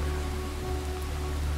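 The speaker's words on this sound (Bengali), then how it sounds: "বৃষ্টি পড়ছিল হয়তো তখনই, সেই শব্দেই তাদের ঘুম এসে গেছিল" Rain falls steadily as a cartoon sound effect, an even wash of hiss with a low hum beneath, constant and fairly loud with no voices.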